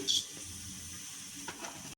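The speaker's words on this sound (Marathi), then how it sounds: "मी राई तेलात थोडीशी टाकली आहे" Mustard seeds crackle and sizzle in hot oil for a Marathi vegetable tempering, a steady soft frying hiss with a brighter burst at the start and a few small pops near the end.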